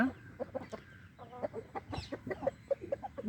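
A young hen clucks in a quick, uneven series of short calls, close and fairly quiet, with no talking.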